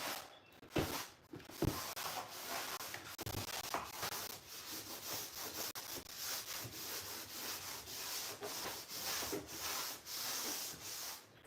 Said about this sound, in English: Wipe it down with a damp towel.